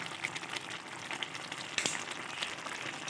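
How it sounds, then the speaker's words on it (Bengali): Bottle gourd greens being stirred in a pan with ginger-cumin paste, giving a steady close frying sizzle with soft scraping stirs and a brief louder clatter near the middle. "এবার আমি একটু ভালোভাবে নেড়ে চেড়ে দিয়ে দেবো আদা জিরা পেস্ট।"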